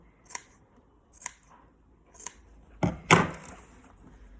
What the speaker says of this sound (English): I'm gonna just cut a bit, slicing into it like that.